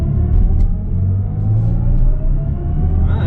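A BMW i7 xDrive60 electric luxury sedan accelerates hard from a stop at a traffic light, heard from inside as a loud, steady low road and motor rumble that builds without engine revs.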